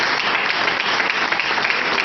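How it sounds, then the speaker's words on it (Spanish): Sustained audience applause at a public talk in Río Colorado, a dense, even roar of many hands clapping, fairly loud and continuous with no voices over it. "un fuerte aplauso, un gracias enorme"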